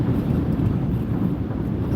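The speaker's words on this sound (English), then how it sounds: "It's very windy out here. The car's being pushed." Strong wind buffets a car on an expressway in winter, a steady, loud low rumble with a roaring gusty texture that continues throughout without a break.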